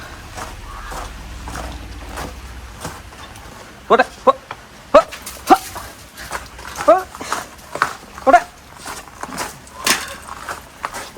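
A dog barks in short bursts, several sharp barks spaced irregularly, close by, after a quiet stretch with low background noise.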